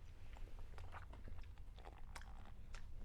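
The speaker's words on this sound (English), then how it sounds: "I'm still chewing." Close, quiet chewing of a lemon coconut Kate's Bar, with soft crunchy bites and irregular mouth clicks over a low background hum.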